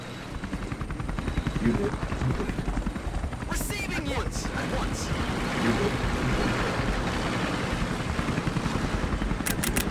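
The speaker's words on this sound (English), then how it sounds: "If you have your own helicopter nearby, I'm sure you can kill them with the helicopter blades" Helicopters in the RTS video game Battlefall: State of Conflict give a steady, choppy rotor thrum that runs throughout, with sharp clicks and bursts of battle noise mixed in.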